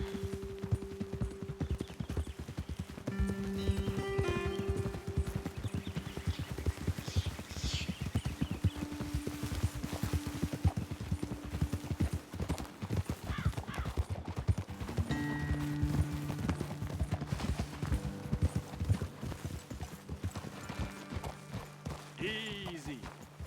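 Horse hooves clip-clop steadily on a trail in the video game Red Dead Redemption 2, a close, continuous rhythmic patter that runs through the whole stretch while voices talk over it and a brief whinny surfaces.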